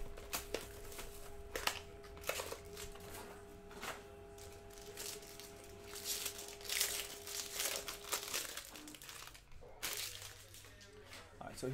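Baseball card packs from a 2020 Bowman Draft box are torn open, with faint crinkling foil and paper rips close by and a steady electronic tone underneath that stops near the end.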